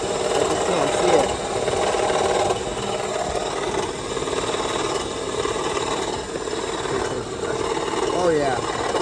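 A car's AC compressor makes a steady, harsh grinding and rattling drone, loud and close, while the engine idles and vibrates heavily underneath.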